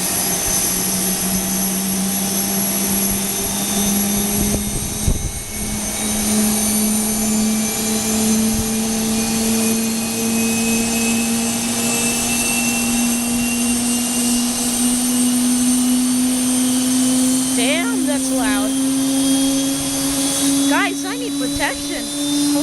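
Jet aircraft engine at Aurora Municipal Airport (KARR), a loud, close, sustained roar with a slowly rising whine as it spools up, steady throughout.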